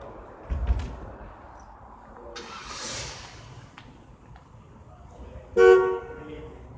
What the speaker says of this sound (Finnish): Torvi. Toimii sekin.